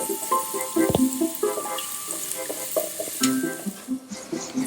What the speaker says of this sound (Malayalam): ഈ ജിഞ്ചർ ഗാർലിക് പേസ്റ്റ് ഫ്രൈ ചെയ്ത് അതിന്റെ സ്മെല്ല് ചേഞ്ച് ആകുമ്പോൾ